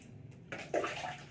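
A brief splash and slosh of water as it is scooped up from a drum, heard close and moderately loud against a quiet background.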